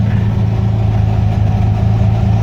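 A car engine fitted with a 34 PICT 3 carburetor runs close and loud, a steady low rumbling idle with a throbbing, even pulse and no talking.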